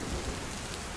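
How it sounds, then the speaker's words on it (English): Steady, dense rain hisses evenly as ambient background for a tabletop game scene, a broad constant wash with no voices. "Well, it's raining"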